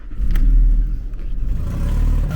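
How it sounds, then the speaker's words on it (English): A car engine, just brought back with a fixed rotor and cap, idles smoothly with a deep, steady low rumble and a slight rise in revs, close by, without talk. "As you can hear now, the engine runs very smooth."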